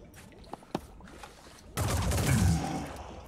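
A gunshot in the tactical strategy video game Phoenix Point, a sudden loud burst of fire that rolls on for over a second after a quieter lead-in with a couple of faint clicks.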